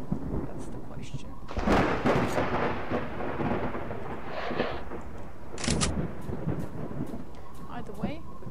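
Thunder in the video game Lost Alpha, deep rolling rumbles with sharper cracks over a steady rain wash, fairly loud and continuous, with faint talking mixed in.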